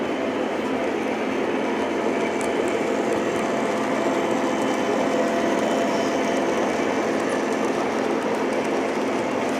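A Lionel GP9 model locomotive pulls an Erie freight train around the layout with a steady close whirring motor hum and a faint rolling rattle of wheels on track.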